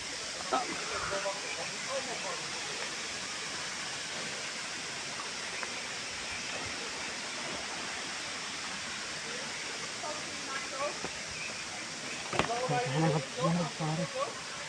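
Secret Falls, a waterfall in Sri Lanka, roars as a continuous broadband wash of falling water, steady and enveloping, with people talking over it near the end.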